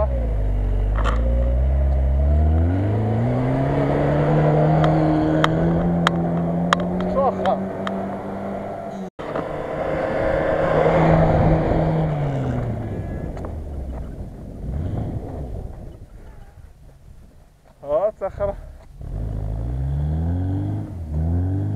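Engine of a Lada VAZ-2106 off-roading alongside a Land Rover Discovery and Daihatsu Feroza, revving up and down in long rising and falling strains as the car struggles through terrain, with wind noise and people talking over it.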